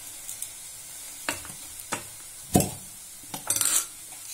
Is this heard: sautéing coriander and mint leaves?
yes